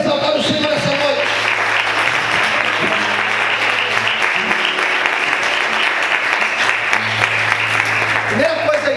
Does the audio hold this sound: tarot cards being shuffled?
no